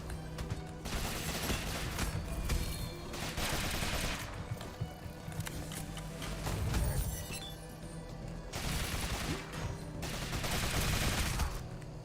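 Rapid bursts of gunfire in the Rogue Legacy 2 video game, repeated volleys clustered in several dense stretches across the clip, steady and fairly loud with no talking over them.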